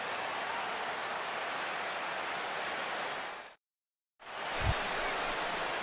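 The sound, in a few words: rain falling in the video game MLB The Show 16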